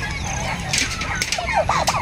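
Bourbon Red turkeys call from a farm pen, several quick gobbling and clucking bursts rising toward the end over constant outdoor background noise.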